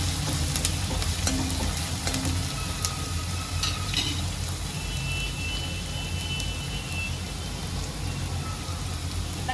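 Onions frying in oil for a cluster bean (gavar) curry, a steady close sizzle with stirring scrapes throughout, no talking.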